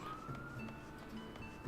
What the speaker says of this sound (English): I'm hearing a siren.